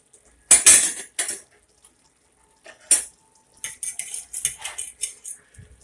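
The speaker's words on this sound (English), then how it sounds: "we just going to stir our hamburger meat" A spoon stirs ground beef for goulash in a pan, giving sporadic close metallic clinks and scrapes separated by short quiet gaps, with no talking.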